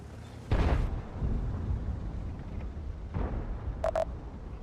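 A tank cannon fires in World of Tanks, one sharp booming blast followed by a rumbling decay, with a fainter second thump and a pair of short electronic beeps later, no speech.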